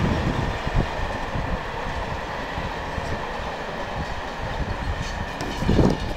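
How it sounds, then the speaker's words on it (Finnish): A passing train heard outdoors on a windy day, with a steady loud roar of rolling wagons and wheel clatter holding throughout, swelling slightly at the close. "Juna on kaunis asia."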